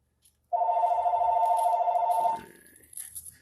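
A telephone bell rings loud and close in one sustained burst of nearly two seconds in a workshop, then cuts off, leaving faint room noise and small rustles.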